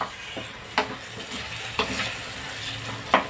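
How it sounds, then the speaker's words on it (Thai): Water spinach sizzles in a hot pan with crispy pork and curry paste, a constant frying hiss broken by three sharp spatula scrapes against the wok. "ก็จะผัดให้มันเข้ากับหมูกรอบนะคะซึมเข้าไปในเนื้อหมูกรอบ"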